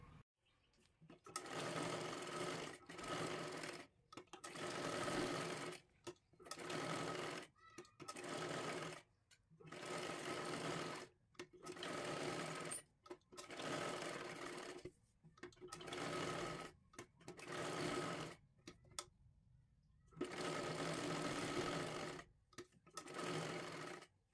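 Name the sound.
sewing machine stitching blouse lining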